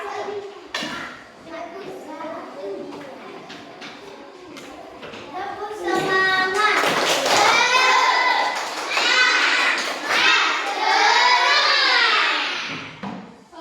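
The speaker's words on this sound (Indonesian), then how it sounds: "Sekarang kita untuk menambah semangat dari kita tepuk semangat ya" Indonesian schoolchildren do a rhythmic spirit clap, a run of sharp, evenly spaced claps at first, then loud group chanting voices take over and dominate.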